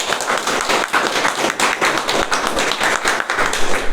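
Members at a Toastmasters club meeting clap together for the opening section, a close, fairly loud run of overlapping hand claps that carries on alone for the full few seconds.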